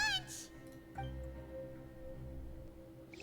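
A cat in a video game gives a short meow followed by a quieter second call, set against a soft steady musical background.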